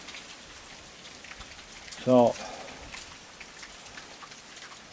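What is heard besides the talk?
rain pouring down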